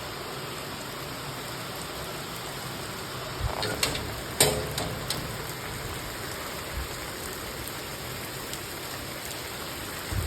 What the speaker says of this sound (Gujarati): વરસાદ આવ્યો